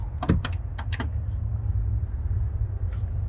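A few sharp metallic clicks and a latch clack of a 2020 Kenworth T680 truck door opening, over a steady low engine idle rumble.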